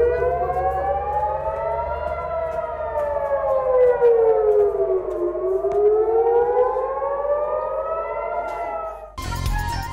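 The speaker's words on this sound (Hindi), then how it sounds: "तल अवीव समेत इसराइल भर में सायरन्स बज उठे।" Air raid sirens wail across Israel after an Iranian missile attack, a loud civil defense siren rising and falling in long sweeps with a low hum beneath, ending abruptly in a burst of noise.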